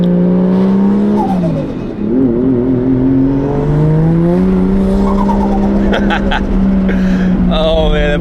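A Japanese import sports car engine revs hard and drops back repeatedly, loud and close, with rising and falling tonal whine and a gravelly exhaust note, and some squealing and high chirps near the end.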